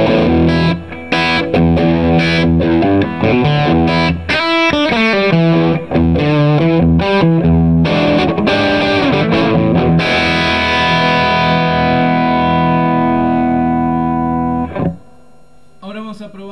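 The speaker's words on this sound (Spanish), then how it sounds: "Está crancheado el equipo, para que vos escuches cómo suena solo" Crunchy electric guitar through a PRS-30 amp with the booster switched off, loud close strummed chords and a sustained ringing chord that cuts off near the end, played alone with no voices.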